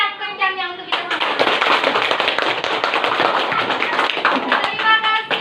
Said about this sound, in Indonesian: tepuk sekencang-kencangnya untuk kita semua.